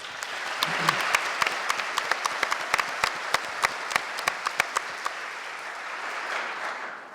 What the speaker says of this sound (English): You guys clap a lot.